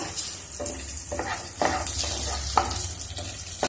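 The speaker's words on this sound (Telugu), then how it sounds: "ఇప్పుడు ద్రాక్ష కూడా వేసేద్దామండి ద్రాక్ష వేగినాయి" Grapes fry in hot oil for chicken majboos, giving a close, steady sizzle broken by several bursts of stirring scrapes in the pan.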